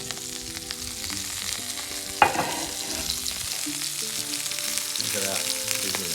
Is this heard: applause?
no